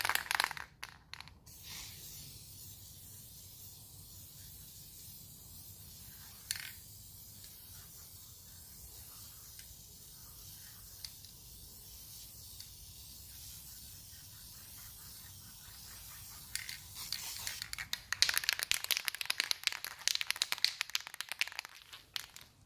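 Spray can applying a layer of paint to a wheel rim: intermittent hissing bursts of aerosol, one near the start and a longer sustained spray toward the end, close up with no talk.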